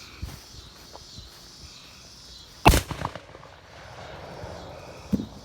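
A large "Alien" firecracker goes off outdoors with a sharp loud bang followed by a few crackling pops and a rushing tail, then a smaller pop near the end, heard from a short distance.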